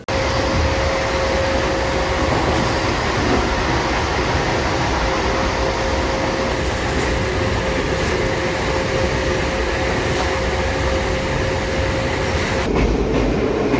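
A Singareni MEMU local train runs steadily, a loud continuous rumble and rattle heard from inside the coach, with a faint sustained hum and slight shifts toward the end.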